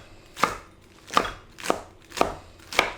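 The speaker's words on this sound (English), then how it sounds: "I'm just going to chop it in." Knife chopping lettuce for a garden salad on a cutting board, five sharp separate cuts spaced evenly and close up, with no talking.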